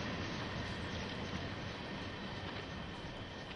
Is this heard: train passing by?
yes